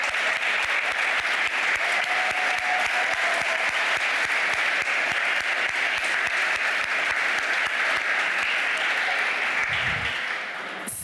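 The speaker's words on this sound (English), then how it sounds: "Let's give them a round of applause." Sustained, dense audience applause at the 25th annual Studs Terkel Awards ceremony as past winners stand, loud and steady throughout, then tapering slightly at the very end.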